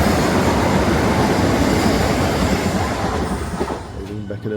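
A train leaving Beckenham Junction station, a loud, continuous rumble of wheels on track filling the whole stretch, easing off toward the end as faint squealing tones emerge.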